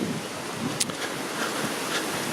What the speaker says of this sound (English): this wind really is picking up